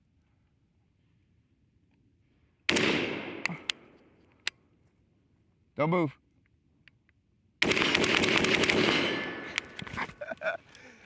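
Rifle with a two-stage trigger fired while zeroing the sight, two loud close reports with ringing tails, separated by brief clicks and talk.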